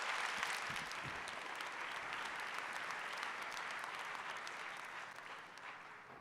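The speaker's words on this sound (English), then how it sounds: "Let's give them all one big round of applause." Steady applause from a large conference audience at an opening ceremony in Atlanta, a dense, even wash of clapping sustained for several seconds, fairly distant and soft, tapering slightly at the end.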